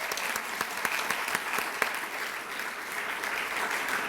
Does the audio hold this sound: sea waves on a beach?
no